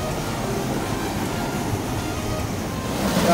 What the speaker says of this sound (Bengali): দেখো এদিকে ঝর্ণার জলটা কিভাবে আসছে উপর থেকে